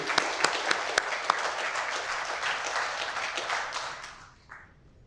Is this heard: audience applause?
yes